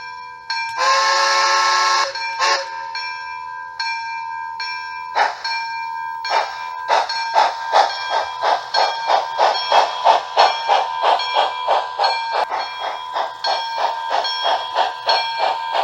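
A model Bachmann PRR K4 4-6-2 steam locomotive's sound system chuffing steadily and speeding up, with a hissing burst of steam at the start and a rapid, regular rhythm throughout.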